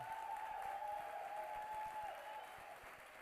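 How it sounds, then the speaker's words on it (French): Quiet, distant applause from a Christmas concert audience for a choir, a soft continuous patter that fades slightly near the end, with a faint sustained tone over it. "Je demande de vous applaudir très fort."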